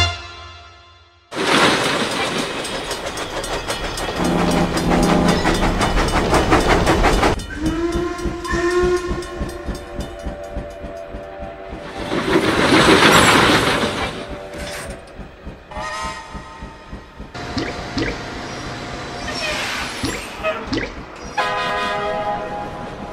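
Trains moving at a freight depot and carriage yards, with loud rolling rumble, clattering wheels, long whistle blasts and hissing bursts, rising and falling over an extended stretch.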